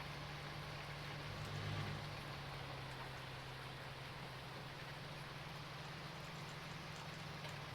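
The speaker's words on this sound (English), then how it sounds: "All I can hear at the moment is rain." Rain falls in the Farming Simulator 19 farm game as a steady, even hiss of rainfall. A faint low engine-like hum runs underneath. It continues alone, without talk.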